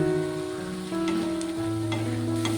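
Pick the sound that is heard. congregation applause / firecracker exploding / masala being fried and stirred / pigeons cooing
masala being fried and stirred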